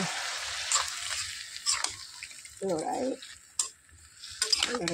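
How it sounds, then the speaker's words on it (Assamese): Broiler chicken meat fries in a pan as a little water goes in, giving a steady close sizzling hiss broken by a few sharper scraping stirs and splashes, with a brief voice partway through. "এতিয়া অকণমান মই পানী দি দিওঁ"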